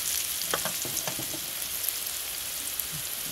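Vegetables fry in a pan for vegetable Maggi masala noodles, a soft, steady sizzle with a few light stirring clicks near the start, quiet and without talk.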